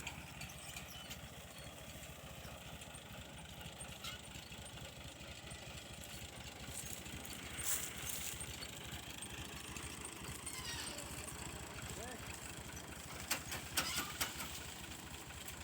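A tractor engine runs steadily, driving a tree shaker during a walnut harvest. Its low rhythmic chug is fairly faint and distant, with brief rattling bursts as the shaker works.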